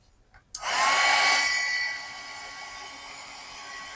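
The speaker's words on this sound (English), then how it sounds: "I'm gonna hit that with the heat gun" A heat gun switches on with a click and blows a steady, close, whooshing roar with a faint whine, drying ink wash on a sketchbook page, then eases back to a somewhat quieter hum.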